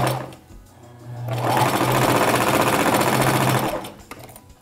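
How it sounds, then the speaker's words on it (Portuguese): A straight lockstitch sewing machine stitches a lace bra strap in one loud, continuous run of close, fast mechanical chatter lasting a few seconds, with quieter handling sounds before and after. "Entra na fivela de um lado, sai do outro e já vou costurar aqui também."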